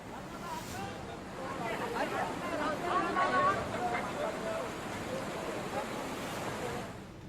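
Heavy monsoon floodwater rushes through waterlogged streets where shops and houses stand submerged, a steady, loud, broad roar of churning water with wind noise and faint background voices.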